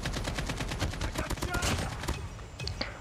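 Rapid automatic gunfire from a DRH rifle in Call of Duty Mobile: a fast, even burst of sharp shots close up for about two seconds, then the shooting stops.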